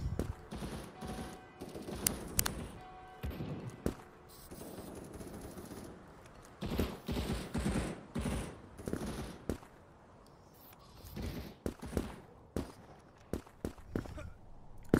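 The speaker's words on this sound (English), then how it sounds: "Some gunfire right down there." Gunfire in the video game Krunker, with rapid bursts and single sharp shots cracking over busy game noise and footsteps, coming in uneven clusters throughout.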